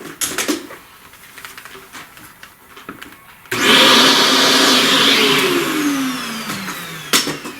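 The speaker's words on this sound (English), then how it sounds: "Let's vacuum up some of that." Quiet scratching of charcoal on a drawing for a few seconds, then a vacuum cleaner starts abruptly with a loud, steady motorized whine, sucking up charcoal dust close up to the end.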